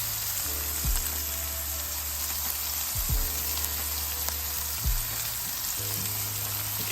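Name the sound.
burger patties sizzling on an indoor electric grill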